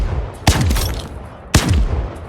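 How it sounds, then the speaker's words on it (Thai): Two sharp, booming gunshots about a second apart from an R9-0 gun in a video game, each with a punchy crack and a rumbling tail, loud and close with a synthetic, game-like quality. "เสียงยิงปืน"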